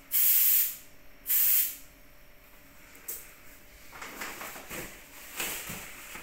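Two loud bursts of air hiss, each lasting about half a second, come as a football's pressure is set at a club, followed by softer handling and rustling noises.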